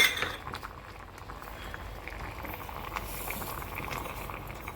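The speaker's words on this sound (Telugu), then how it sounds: "ఆ షుగర్ కరిగే వరకు మనం దీన్ని ఇలా ఉడికిస్తూ ఉండాలి." Sugar water boiling in a pot, a soft continuous bubbling simmer, close and fairly quiet, with a faint clink of metal at times.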